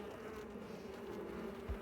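Agitated honeybees buzz in a steady, close, droning hum after a hive frame is shaken, with a dense swarm tone and no talk.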